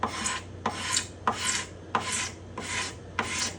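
A hand scraper shaves dried glue squeeze-out off the bindings and purfling of a spruce guitar top in six rhythmic rasping strokes, each starting with a sharp bite, close and alone.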